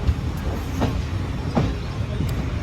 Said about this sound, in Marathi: आणि गाडी आता हळूहळू स्पीड पकडते